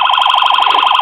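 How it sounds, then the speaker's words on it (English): Electronic air horn tone from a custom 1:18 2015 Mustang GT police diecast model siren: a loud, close, rapidly warbling buzz repeating steadily for one second, no voices. "Electronic air horn,"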